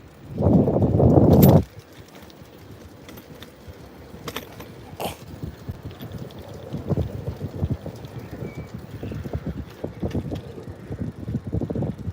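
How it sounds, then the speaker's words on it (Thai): A loud burst of wind buffeting the microphone opens the clip, then lighter gusts and rustling continue while riding along, with occasional clicks. "ปั่นจักรยานนี่ก็มีลม"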